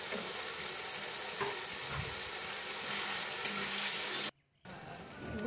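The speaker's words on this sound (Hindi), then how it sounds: "टमाटर को थोड़ी देर भूनने के बाद अब मैं इसमें ग्रीन चिली डाल रही हूँ" Green chilies fry with tomatoes in a pan, a continuous hissing sizzle with light stirring scrapes, close by, broken by a brief silent gap near the end.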